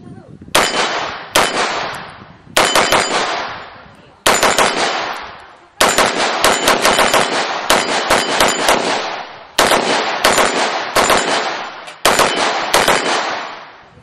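An SPS Invictus shotgun fires a long string of loud, sharp shots in rapid bursts with short pauses between them. Each blast rings off with a metallic echoing tail, and there is no talking.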